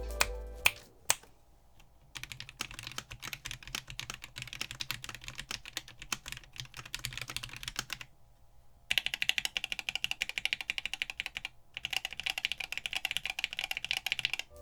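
Rapid clacky typing on a gasket-mount mechanical keyboard with Gateron switches, no foam and no plate, in bursts of close keystrokes separated by short pauses, with no voices.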